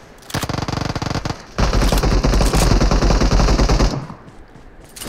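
Automatic gunfire in PUBG Mobile, two loud close bursts of rapid shots, a short rattle followed by a longer sustained volley lasting over two seconds, then fading.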